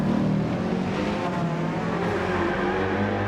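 Race car in a sim racing game at Bathurst, descending from Skyline toward Forest Elbow; a loud continuous engine drone with shifting pitch, no talk.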